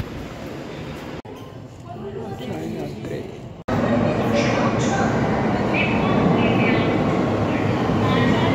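Rumble of a metro train riding through the city, a steady loud broadband roar that rises sharply after a brief cut midway, with people talking over it in the first part.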